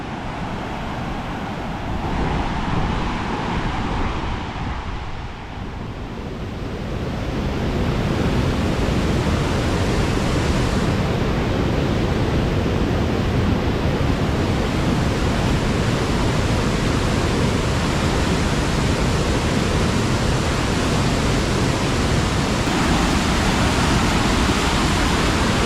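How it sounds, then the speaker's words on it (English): Waterfalls and rapids in Kejimkujik National Park roar as a steady, dense rush of water, slightly softer for the first few seconds, then constant and loud, with no voices. "Those are the largest waterfalls in the park."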